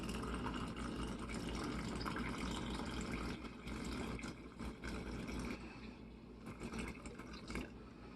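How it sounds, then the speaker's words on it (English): Filtered water pours steadily and continuously over coffee grounds in a cold brew carafe for several seconds, a full, gurgling liquid stream that thins slightly toward the end. "We are going to pour this right over our grounds"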